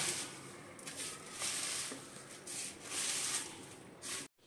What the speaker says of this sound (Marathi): तर हे खोबरं आपण भाजून घेतलेलं आहे तर ते आता आपण हाताने चुरडून घेऊया.